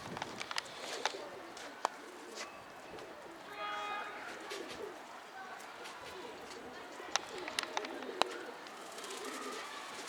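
Pet pigeons coo softly in a loft, a low throaty murmur in the middle of the stretch, with scattered wing flutters and faint clicks around it and a voice occasionally in the background.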